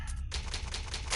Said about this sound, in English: I forgot there was a typewriter here.